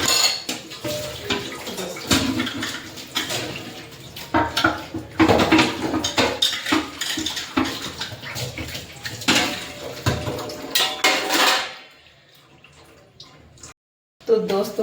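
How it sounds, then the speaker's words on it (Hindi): Dishes, pots and utensils being washed in a home kitchen: steady clatter of steel and cutlery clinking under running tap water, close and busy, then a quieter tail with a few drips before one last knock. "फाइनली मैंने बर्तन धो दिए हैं"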